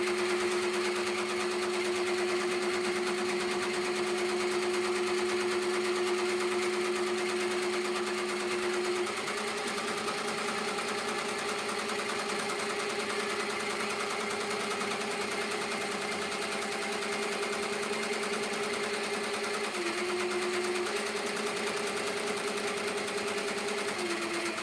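A sewing machine stitches appliqué pieces for handmade orders, running as a loud, continuous whirring drone with slight changes in pitch as the speed shifts, and no voices.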